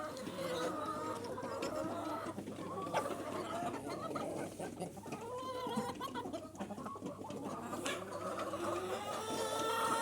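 Chickens and roosters in a henhouse at evening cluck and squawk busily, many birds overlapping close by in a continuous chatter, with a voice talking now and then.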